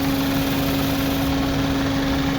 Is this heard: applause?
no